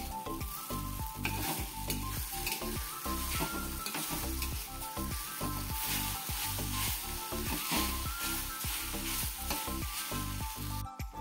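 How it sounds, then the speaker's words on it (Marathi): Okra (bhindi) fries in hot oil in a home kitchen, a loud, steady sizzle broken by repeated rhythmic scraping as it is stirred, close up and with no voices. "तर या ठिकाणी भेंडी भाजायला टाकलेली आहे"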